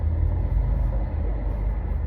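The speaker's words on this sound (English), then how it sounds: "The New York and New Jersey Port Authority big ass truck 12055." A large New York and New Jersey Port Authority truck rolls past with a steady low engine rumble and road noise, fairly close and continuous, with no voices over it.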